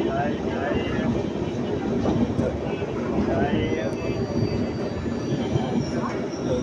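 A passenger train runs straight through Simmanpatti station without stopping on the Erode to Bangalore line, a steady loud rumble with rail clatter throughout, and a voice talks over it.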